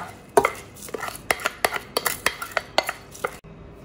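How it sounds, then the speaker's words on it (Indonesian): Washed rice goes into a cooking pot while preparing Betawi-style nasi uduk, heard as a series of sharp clinks and scraping knocks against the metal, about a dozen close, uneven hits with no voices. "Aku masukkan beras. Ini udah aku cuci ya."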